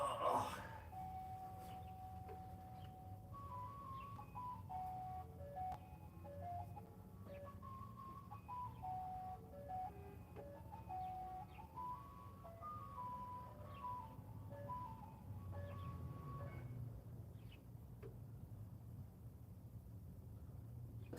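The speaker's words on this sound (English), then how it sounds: "ice cream song on that truck sounds terrible." Ice cream truck jingle, a thin tinny melody repeating faintly in the distance over a low rumble of traffic, with no talk.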